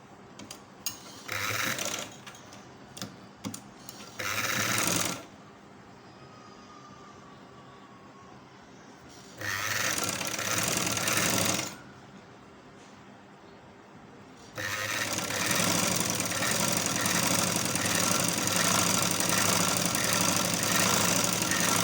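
Sewing machine stitching a little girl's sleeve, a loud, fast mechanical whirring run in three long bursts with short starts early on and quieter pauses between.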